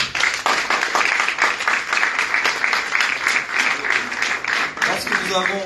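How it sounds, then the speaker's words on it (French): A press-conference audience at a fight announcement breaks into sustained applause, a dense crackle of many hands that runs throughout, with a voice speaking over it. "on peut aussi encore une fois l'applaudir"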